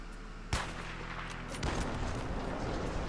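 Gunshots in a modded Minecraft Hunger Games match with guns, two sharp, loud shots about a second apart over steady game background noise.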